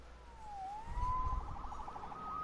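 Police siren in the Spider-Man PS4 video game, a single wailing tone that sweeps down then rises into a rapid warbling yelp, fairly faint and distant over a low rumble.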